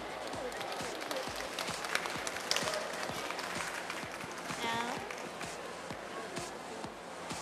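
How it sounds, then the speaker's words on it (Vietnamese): Audience applause for Ao Dai pageant contestants at a 2013 competition, dense steady clapping across the whole stretch with some cheering and voices mixed in, moderately loud and sustained. "Xin mời quý vị một tràng pháo tay cho mấy thí sinh này."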